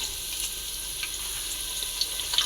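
Beef pieces go into hot oil with browned onions for biryani, a steady moderate sizzle and crackle with small pops and spits, close and continuous, without speech.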